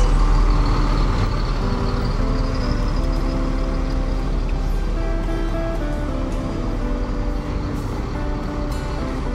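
A Ranah Minang bus idles at Kampung Rambutan terminal, a steady low diesel rumble that holds loud and even throughout, with faint terminal background noise and no talk.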